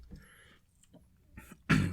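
A single sharp cough bursts out near the end, loud and close, after a stretch of quiet breathing and faint movement.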